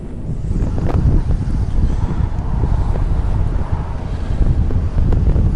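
Strong, continuous wind buffets the microphone on an open river bottom, a heavy low rumble with gusty surges and no voices.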